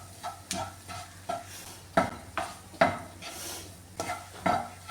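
Kashmiri chili powder and garam masala being stirred and heated in a pan for a beetroot fry: a steady run of rhythmic spoon scrapes against the metal, close and moderately loud, over a soft background sizzle with no voices.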